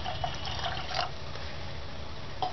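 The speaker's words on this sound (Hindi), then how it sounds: "और लगभग 1 गिलास पानी इसके अंदर और डाल देंगे" About a glass of water is poured into a pot of soaked sabudana, giving a steady faint splashing trickle with a few brief drip accents across a couple of seconds.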